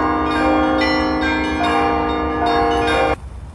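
Church bells peal together at a patriotic memorial event honouring fallen soldiers, loud, layered and ringing steadily before the sound cuts off abruptly near the end, with no talk.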